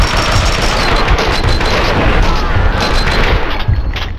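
Loud, dense gunfire and booming shots fill a firefight in the Max Payne 2 video game, rapid and continuous.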